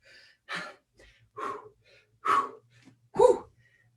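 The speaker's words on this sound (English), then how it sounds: "Hopefully you notice my deep breathing." Heavy, deep breaths during a cardio kickboxing workout: four loud, close exhalations spaced about a second apart, with faint softer inhales between them and no talking.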